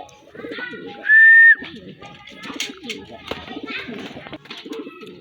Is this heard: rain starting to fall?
no